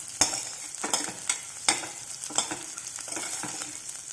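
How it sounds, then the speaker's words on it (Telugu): Onions fry and sizzle in a pan for tomato rasam, with sharp clinks of a spoon stirring at a steady rhythm, close and fairly quiet, with no talking. "ఇప్పుడు ఆనియన్స్ ఫ్రై అయ్యాయి కదండి"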